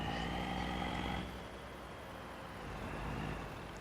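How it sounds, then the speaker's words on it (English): A truck engine in the video game Farming Simulator 25 rumbles steadily at moderate volume, a low droning idle that shifts in tone after about a second and then holds. "You guys can hear how mean this truck sounds."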